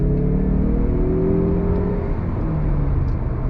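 A 2022 Mazda CX-30 all-wheel-drive SUV accelerates on throttle, its engine a loud, steady drone that climbs in pitch from start to finish, with no talking.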